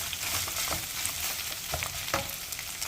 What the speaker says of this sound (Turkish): Tavuklarımızın pişmesi yeterli. Çok hafiften kızarmaya da başladılar.